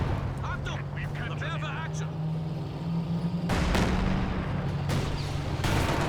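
An artillery barrage lands in a Company of Heroes 2 match: heavy booming impacts arrive at intervals amid the battle din, under steady commentary.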